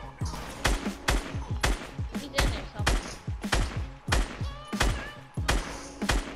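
Gunfire in Fortnite rings out as a rapid series of sharp, punchy shots, some fired in quick pairs and clusters, repeating steadily across the stretch at moderate loudness.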